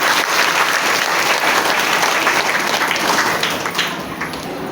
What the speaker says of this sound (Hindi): एक बार जोरदार ताली से सम्मान।